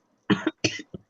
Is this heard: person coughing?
yes